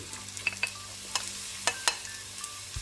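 Sliced onions sizzle softly in a generous pool of olive oil, with several sharp clinks and scrapes of a utensil stirring the pan at irregular intervals, close by and fairly quiet.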